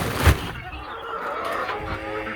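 Hens cluck on a farm, with a louder burst near the start followed by steady low clucking and faint background noise.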